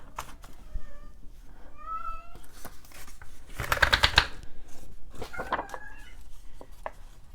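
A cat meows several times in rising, drawn-out cries amid rustling and shuffling noises nearby, with a burst of clattering in the middle.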